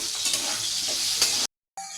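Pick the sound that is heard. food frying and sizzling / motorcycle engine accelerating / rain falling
food frying and sizzling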